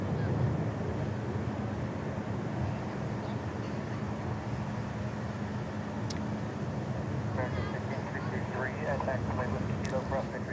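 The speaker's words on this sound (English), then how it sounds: "I see Turkish Airlines crossing the bridge. In from Istanbul." Turkish Airlines jet in from Istanbul taxiing across a bridge at DFW International Airport at night, a steady low engine rumble and hiss, with faint voices murmuring near the end.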